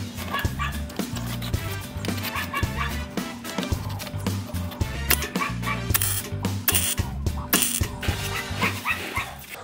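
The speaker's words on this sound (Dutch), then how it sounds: "Dat is niet Diesel die jullie horen, dat is de hond van de buren." A dog barks repeatedly in quick bursts with some yips and whimpers, moderately near, over a faint background hum.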